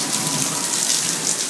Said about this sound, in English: It's harder to see on video, but the rain is really crazy.